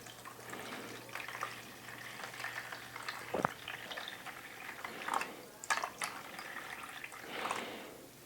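Lukewarm water pours from a tap into a bowl on a kitchen scale, a quiet, uneven trickle and splash that swells and fades over several seconds in a calm kitchen, with no one speaking.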